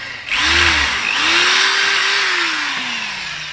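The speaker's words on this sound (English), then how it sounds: "So you'll see I'm drilling up at kind of an angle here" A power drill whines steadily for a few seconds, its pitch rising then slowly sagging as it bites into a wall while installing a water filter, close and loud.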